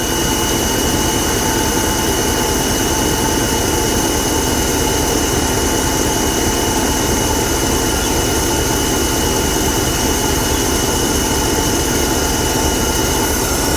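Engine of a 1985 Buick LeSabre estate wagon running steadily at idle after new fuel lines and exhaust work: a loud, continuous rumble with a broad noisy hiss, unchanging throughout, with no voices.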